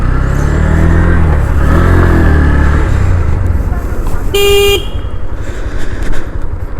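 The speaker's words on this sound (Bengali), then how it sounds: "হর্নটা চেঞ্জ করে নেওয়াটাই বাঞ্ছনীয়" A single short horn beep from a Honda Hornet 2.0 motorcycle sounds over its loud running engine, the engine rumbling and revving before and after the honk.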